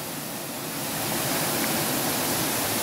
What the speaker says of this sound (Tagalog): Malakas naman ang bukal.